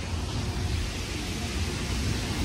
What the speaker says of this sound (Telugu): మళ్ళీ ఇక్కడ హెవీగా రెయిన్ పడుతుంది చూడండి